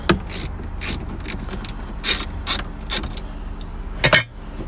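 A wrench breaking loose a 10 mm nut on the battery terminal of a 2014 Dodge Charger R/T, giving a series of short metallic ratcheting clicks and creaks close by, ending in a louder double click.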